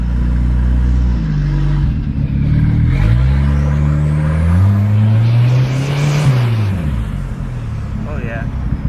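A 1980s turbocharged car engine revs up loudly and close by, its pitch climbing and falling across several pulls as it comes on boost, with a person talking over it.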